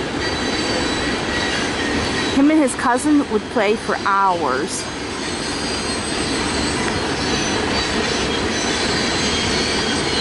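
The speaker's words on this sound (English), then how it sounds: "And this train's a long one." A long train rolls steadily past a towpath trail, its wheels squealing in wavering tones for a few seconds amid a continuous rumbling roar; someone talks over the passing cars.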